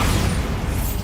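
A Bombarda spell explosion in the Hogwarts Legacy game: a short, dense, rumbling blast of noise that stays loud through about a second.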